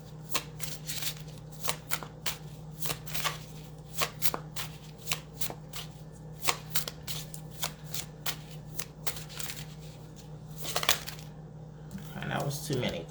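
Tarot cards are shuffled and drawn by hand in a long run of quick, crisp riffles and flicks, with sharp card snaps recurring over a low steady hum and a brief clatter near the end.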